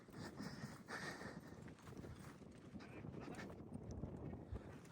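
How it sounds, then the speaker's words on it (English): A young, green horse carries a rider on a ranch while gathering cattle; its hooves clop at a steady walking pace, muffled under constant wind buffeting the microphone. "I'm riding Drifter today, so I'm not very handy"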